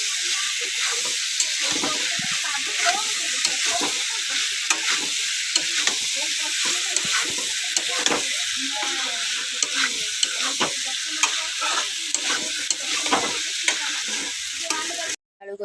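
Potatoes and peas stir-fried for alu kasa matar tarkari, a loud continuous sizzle with repeated scraping spatula strokes throughout, close up.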